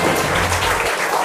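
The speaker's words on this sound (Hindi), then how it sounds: "एक जोरदार ताली होनी चाहिए अंजलि के लिए" Audience applause for a school student contestant in a KBC-style general knowledge quiz, a short, loud burst of clapping over low background rumble.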